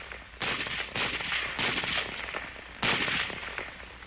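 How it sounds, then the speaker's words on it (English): M1 Garand semiautomatic rifle firing four distinct loud shots in a spaced rhythm, each a sharp crack with a brief echoing tail, no voices. "one man firing a Garand can do nearly as much damage as 3 men using the old-type Springfield rifle"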